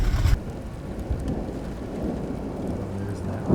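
A thunderstorm moves up the Grand Canyon from the west, heard as a deep, continuous rumble with steady rain-like noise. A louder gust or crack sounds at the very start.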